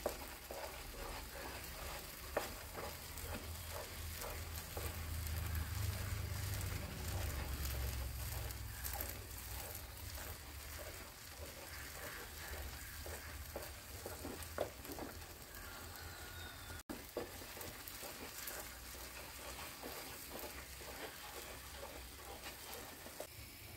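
Banana halva stirred with a spoon in a frying pan, giving a soft, steady scraping and gentle sizzle that stays quiet and close throughout.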